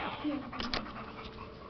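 A puppy whimpering and panting in brief high bursts, mixed with a person talking nearby.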